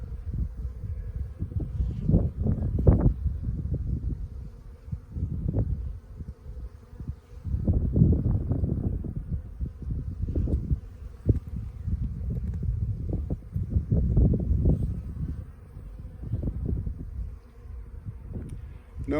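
Honey bees buzz steadily and close during a spring hive inspection, a dense droning swarm sound that swells and fades in waves, with some wind and rustling.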